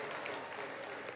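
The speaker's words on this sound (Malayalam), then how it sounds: "നന്നായിട്ട് കൈയടിച്ചേ." Congregation clapping hands at a Malayalam Christian prayer service, a steady dense patter of applause filling the whole moment at a fairly low level, with a faint voice blended underneath.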